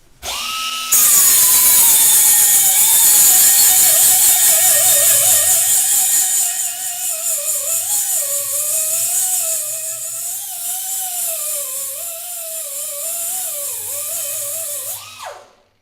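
A 50 mm flap disc on a power grinder takes welding points off an aluminium frame. The motor whines loudly and continuously for about fifteen seconds, and its pitch wavers as the disc bites into the metal, before it spins down at the end.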